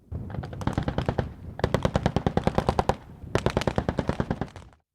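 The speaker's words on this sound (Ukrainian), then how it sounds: "Проти БТРів, що намагаються подолати кордон, застосовують гранати та зброю." Bursts of rapid automatic gunfire ring out in three loud volleys with brief gaps during a border guard military training exercise against armored personnel carriers, with no talk.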